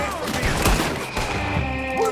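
Gunfire in the video game Red Dead Redemption 2, a loud, dense volley of overlapping shots and booms under game sound effects and music, with no talk.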